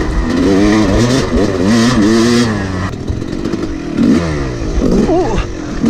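Enduro motorcycle engine revving hard while riding on a rough trail, the pitch climbing and dipping through repeated throttle bursts, loud and close throughout.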